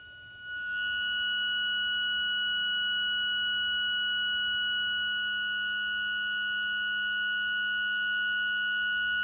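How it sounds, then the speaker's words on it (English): A demodulated sine-wave tone plays from a lab speaker in an analog communication setup, a pure steady whine with harmonics that swells from near silence to loud within the first two seconds and then holds. "you will hear the output of the speaker, the volume going from very low to very high."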